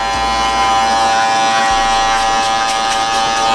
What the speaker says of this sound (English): You could also use the shaver right here